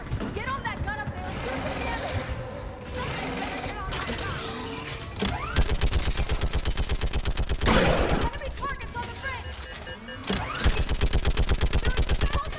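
Rapid automatic fire from a mounted gun in the video game Mass Effect 3, dense rattling bursts with short pauses, mixed with game sounds and voices talking.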